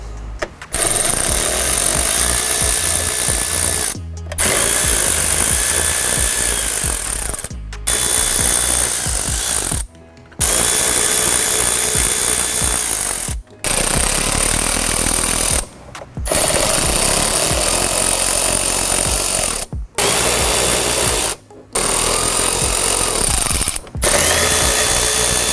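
A power tool loudly drives out 10mm and 7mm bolts from the front grille of a Bronco Sport, roaring in repeated bursts several seconds long, separated by short silent pauses.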